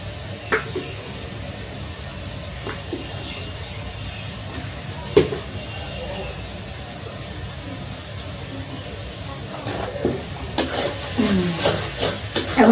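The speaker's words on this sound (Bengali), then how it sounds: "এখন আমি হচ্ছে মশলাটা কষাই নিব সুন্দর করে।" Spice paste with chili powder being stir-fried in a pan: a steady sizzling hiss broken by scraping stirs and occasional knocks of the utensil, growing busier toward the end, with a voice speaking at times.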